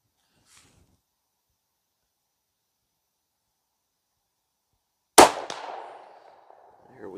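A single loud rifle shot cracks out after long silence, followed by a ringing metallic clang as the round strikes a steel buffalo target on a range, the tone decaying over a couple of seconds.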